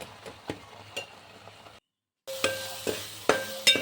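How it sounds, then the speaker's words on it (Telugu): Gongura leaves frying in a pan, with several short stirring scrapes and clinks over a soft sizzle, a brief silent gap midway, then brighter stirring strokes close by. "గోంగూర తొందరగానే ఫ్రై అయిపోతుంది"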